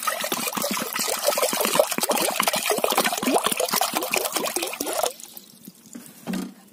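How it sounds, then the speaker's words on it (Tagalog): Water pours steadily into a pot holding harvested squash before boiling, a close, continuous splashing and gurgling stream that stops abruptly, followed by a brief knock. "So ngayon, lagyan muna natin ng tubig para pakuluan."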